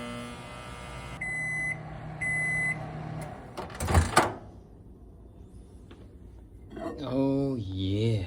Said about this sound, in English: Now we're just going to pop this into the microwave just like that.